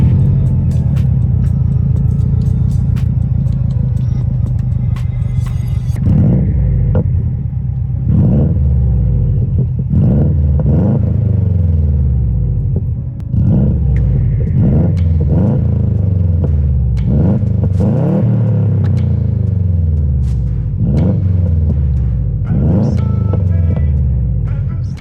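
A Subaru WRX STI fitted with an exhaust made for a Mustang GT, loud and close, with a deep steady idle rumble broken by repeated sharp revs that rise and fall over roughly twenty seconds.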